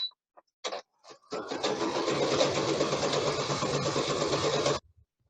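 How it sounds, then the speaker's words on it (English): A sewing machine stitching through satin fabric, a couple of short starts followed by a steady close buzzing run of about three and a half seconds that stops abruptly. "you're actually sewing through both sides of your fabric"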